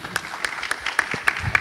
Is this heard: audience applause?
yes